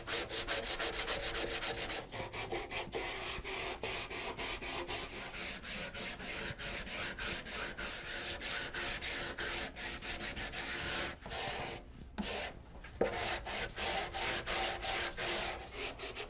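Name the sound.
sanding guitar body with sandpaper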